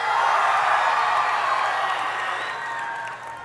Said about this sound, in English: Okay, one more cheer.